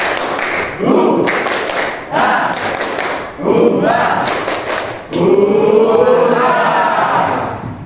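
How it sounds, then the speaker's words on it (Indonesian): A classroom of children performs the tepuk semangat clapping routine together, loud rhythmic bursts of claps and slaps in several quick sequences with group voices chanting along, close and energetic. "Sekali lagi tepuk semangat."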